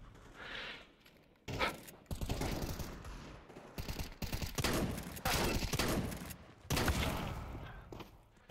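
Bursts of rapid gunfire from the video game Counter Strike 2, several loud volleys separated by short pauses, with a brief muffled voice early on.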